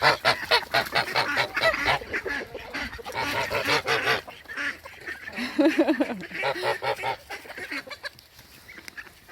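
Geese honk repeatedly close by, loud overlapping calls that thin out toward the end, with other poultry calling alongside.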